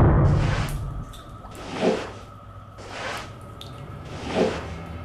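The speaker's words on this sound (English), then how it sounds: "The drips and the creaks sound lovely." Water drips in the PS5 video game Submersed, dark underwater interior: a few soft, wet drip and swish sounds recur at spaced intervals over a low ambient hum.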